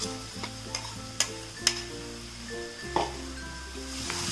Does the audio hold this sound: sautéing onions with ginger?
yes